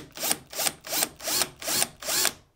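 Power drill bores briefly into a landing gear plate to start a hole mark, six short evenly spaced bursts of whirring, close and moderately loud with no talk.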